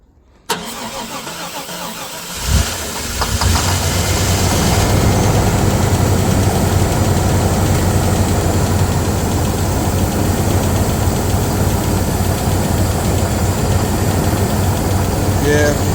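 A 1995 Chevy G20 conversion van engine cranks and catches after sitting for 15 years, then settles into a loud, steady, rumbling idle that runs on continuously.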